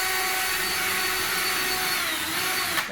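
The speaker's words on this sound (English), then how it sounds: "Again, I'm going to pull this 1x towards me as I drill this into it." A power drill driving a screw through a 1x board into drywall, a loud continuous high whine that holds steady for the whole stretch and cuts off at the very end, heard alone.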